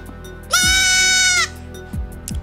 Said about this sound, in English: please tell me why that goat looked just like Dofi